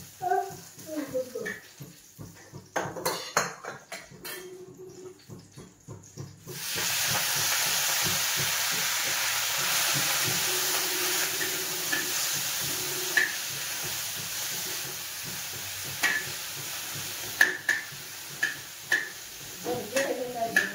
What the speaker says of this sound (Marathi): हिरवी मिरची अशी भाजून घेतले आणि आंबाडी पण त्याच तेलामध्ये मी परतते